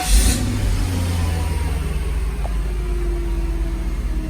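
Mercedes SL500 left abandoned for over seven years, started from cold and pulling away, a steady loud engine drone with a brief rev at the start, close and continuous with no speech.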